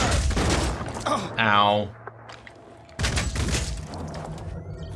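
Phoenix Point gunfire: a loud burst of automatic fire opens, then a pained voice cries out, a short lull follows, and a second volley of shots erupts and rolls on to the end.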